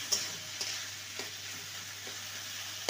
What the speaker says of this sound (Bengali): ভালো করে শুকনো শুকনো করে নেড়ে নেব।